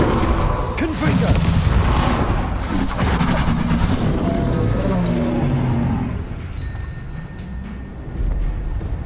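Explosive Confringo spell blasts in the Hogwarts Legacy video game, a loud burst of booming, crashing impacts over dense game music and noise, easing off later with a final thump.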